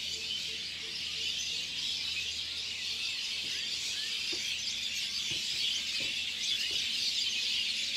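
A flock of birds at a dusk roost keeps up a dense, continuous high chorus of calls, with a few sharper squeaks poking out above the steady din.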